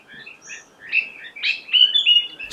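Wild birds singing in a Himalayan forest near Nainital in Uttarakhand, bright chirps and short whistled phrases overlapping at close to middle distance over a quiet background, with no voices.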